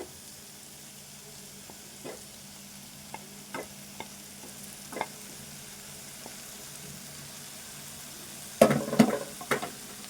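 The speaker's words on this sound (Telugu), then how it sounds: "ఇప్పుడు ఇదంతా ఫ్రై చేసుకోవాలి" Okra and tomato fry in a pan under a low, steady sizzle, with sparse sharp utensil taps and scrapes and a louder burst of clattering stirring toward the end.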